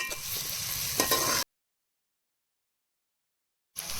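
Onions, green chilies and ginger-garlic paste fry in hot oil for a fish curry, giving a steady close sizzle with a stir or two. The sizzle cuts to a long silent gap, then briefly returns.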